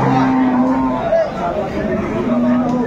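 Dairy cows and heifer calves lowing at Aftabganj cattle market in Dinajpur, with a drawn-out moo at the start and another near the end over a constant bed of crowd chatter.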